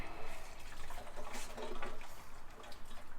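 Transmission fluid being pumped out of a Ford F-150's 10R80 automatic transmission, a steady faint gurgling, liquid flow with no talk.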